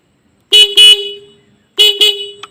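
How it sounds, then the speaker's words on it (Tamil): Horn on a Bajaj Pulsar motorcycle after tuning, sounding loud and close in two short double-toot bursts with a bright, buzzy tone and brief gaps between them. "இப்போ ஹார்ன் அடித்து பார்ப்போம்."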